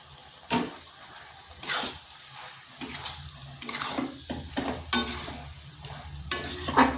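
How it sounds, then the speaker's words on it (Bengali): Cabbage and potato curry with garam masala and chopped coriander being stirred in a pan, a series of scraping spoon strokes and gentle sizzling bursts at an uneven rhythm, close up and without speech. "এগুলোকেও ভালোভাবে মিশিয়ে নিচ্ছি।"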